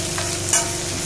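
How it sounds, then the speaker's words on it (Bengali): Onion and garlic fry lightly in a pan, a steady close sizzle with one short stirring scrape in the middle. "পেঁয়াজ রসুন দুটোই হালকা করে ভেজে তুলে রাখতে হবে"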